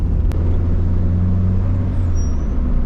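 Heavy low road rumble of vehicles going by nearby, a continuous loud drone of traffic with a brief hiss partway through.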